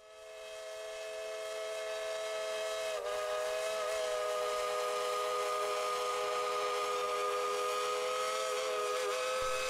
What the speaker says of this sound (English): it's very unique to have a 126-year-old fully functioning steam locomotive operating within your town.